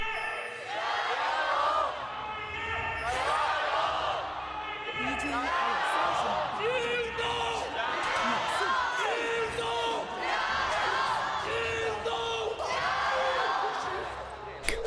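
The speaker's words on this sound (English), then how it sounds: "The Weibo fan chant." Esports fans of the Weibo team at an LPL League of Legends match chanting in a loud, rhythmic crowd roar, repeated pulses of massed voices filling a large arena throughout.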